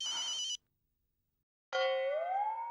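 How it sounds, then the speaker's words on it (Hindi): A telephone rings in two separate bursts with a silent gap between them, the second burst a loud, sustained electronic ringtone that slides upward in pitch, with no voices over it. "लगता है जेठालाल का फोन होगा।"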